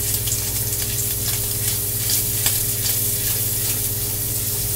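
Country sausage sizzles steadily in a hot pan, with scraping and stirring clicks from breaking up the meat rising over a constant loud frying hiss and a low hum underneath.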